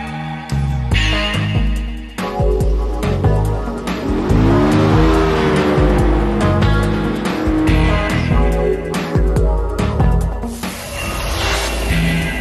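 Can-Am Spyder roadster swerving as its stability control brakes the outer front wheel, engine revving and tires scrubbing through the maneuver, loud and close with sharp clicks and hissing spray-like noise and no talk.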